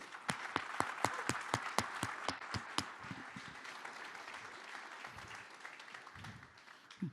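An audience at a live presentation applauds: a run of sharp, distinct claps in the first few seconds swells into steady, sustained applause that carries on to the end.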